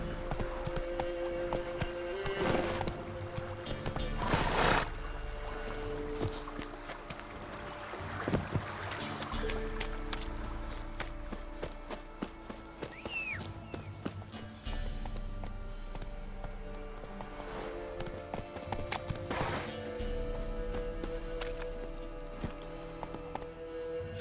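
Roach the horse gallops through The Witcher 3 game world, with steady hoof clip-clop running almost the whole time under game music and ambience, with brief shouts and other game sounds.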